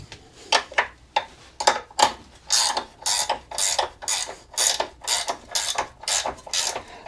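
A ratchet wrench cranks down the last bolt on a winch mount on a cut-down Grand Cherokee, a steady run of about a dozen loud, close clicking bursts in an even back-and-forth rhythm with no talking.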